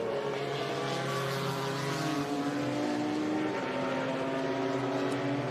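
Number 89 Mazda 767B race car, a 1988 GTP prototype, at a historic race meeting at Laguna Seca, its engine droning loud and steady with sliding pitch bands as it runs, with no voices over it.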